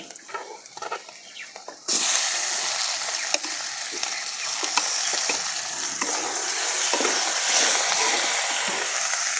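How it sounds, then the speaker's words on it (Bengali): Marinated chicken dropped into a pan of frying onions and chillies on a clay stove, a quiet stir then a sudden loud burst of sizzling that keeps hissing and crackling with spoon scrapes. "এখন আমি মাখিয়ে রাখা চিকেনগুলো দিয়ে দেবো"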